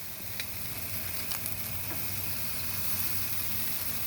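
Pork sizzling on an asado grill as it is flipped, a steady crackling hiss with a few sharp pops near the start, close and continuous with no talking.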